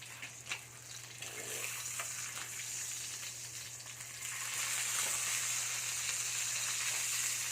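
Food frying and spattering in a hot pan, a steady sizzle with scattered pops that grows louder and denser partway through, heard close up with no talking.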